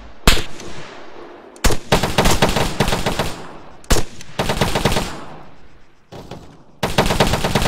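Automatic gunfire from a patrol firefight in the military video game Arma 3, loud sustained bursts broken by brief pauses, with sharp single shots opening each burst.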